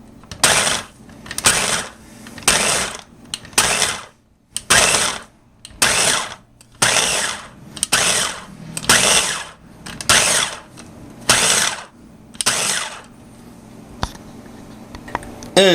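Food processor pulsing dry ingredients for rock cakes into a breadcrumb texture, about eleven short whirring bursts in an even rhythm separated by brief pauses, close and loud.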